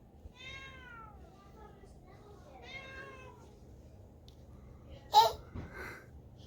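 Recorded cat meows played from a smart speaker, two drawn-out mews a couple of seconds apart, followed by a sharp brief sound and faint voices in a quiet room.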